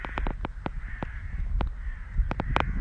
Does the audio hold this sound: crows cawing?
yes